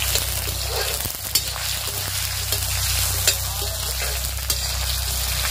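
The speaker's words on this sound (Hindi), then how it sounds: "इसमें कटे हुए आलू को डालेंगे। आलू को थोड़ा सा भून लेंगे" Chopped potatoes frying with green chilies in a pan, a steady close sizzle with a few stirring scrapes and clicks, no talk.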